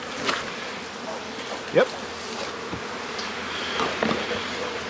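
Honey bees in a nuc hive fitted with a frame feeder buzz softly and steadily, with a few louder individual passes drifting close, while a voice speaks briefly.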